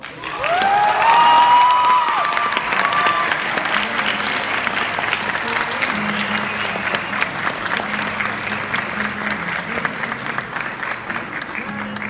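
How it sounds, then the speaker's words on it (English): Sustained applause from a large crowd at a high school awards show, loud at first and gradually settling, with a brief whistle or cheer near the start and faint voices underneath. "One more round of applause for these Grammy winners."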